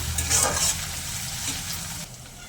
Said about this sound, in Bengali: আদা রসুন বাটা আর পেঁয়াজটা আর একটু নাড়াচাড়া করে নেব।